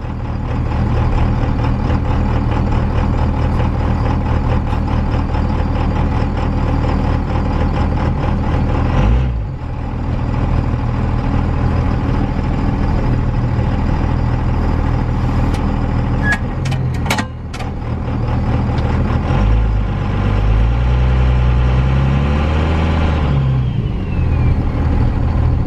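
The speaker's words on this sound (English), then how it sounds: "I'm gonna go ahead and put it in reverse and back out of the garage" A Dodge second-generation Cummins diesel pickup with a 47RE automatic transmission rumbles steadily nearby as it backs out of a garage, engine note dipping briefly, then a faint hiss and a rising rev toward the end.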